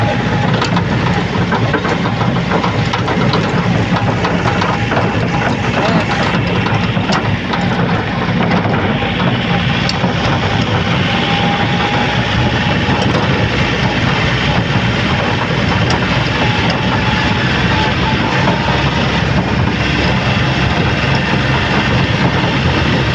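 A tractor engine hauling sand roars loud and steady for the whole stretch, a continuous close mechanical drone with some faint voices underneath.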